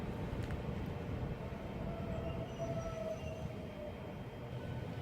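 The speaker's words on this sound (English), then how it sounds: "departing there is 395013, 1 Foxtrot 43, the 1450 Southeastern high-speed service from Faversham to London St Pancras International" Southeastern Class 395 high-speed train departing Gillingham station, a steady loud rumble of wheels and motors with faint high squeals, heard close and continuous.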